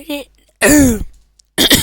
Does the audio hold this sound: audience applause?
no